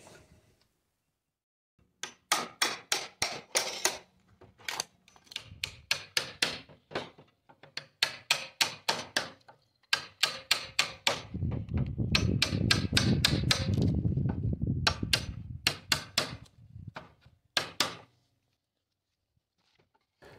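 Hammer strikes on a chisel knock out wood along a sloped cut in a roof-beam build, sharp rapid knocking bursts in quick clusters, with a stretch of rougher scraping noise between them.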